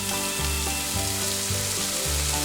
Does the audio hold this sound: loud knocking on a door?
no